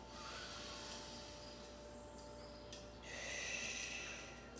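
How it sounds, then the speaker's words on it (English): Deep, slow breaths taken while stretching the neck with the chin dropped down: soft, airy inhales and exhales, close and steady, with no other sounds. "here I want you to take 3 deep breaths"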